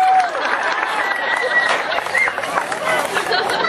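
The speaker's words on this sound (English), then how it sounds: "Give him a nice big round of applause." A crowd at a live alligator show claps in a round of applause, a dense, fairly close wash of hand claps mixed with cheering voices and a presenter talking over it.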